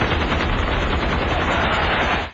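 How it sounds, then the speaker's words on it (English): Gunfire from a staged shootout, a dense continuous burst of rapid shots that fills the clip, loud and close with no pauses. "They're shooting at us! We'll shoot back!"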